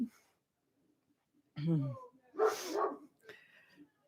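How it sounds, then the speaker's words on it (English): An Anatolian shepherd dog next door gives a couple of short barks, somewhat distant and moderately loud, while a person speaks quietly nearby in an otherwise calm room. "You can hear Max, our next door neighbor's dog."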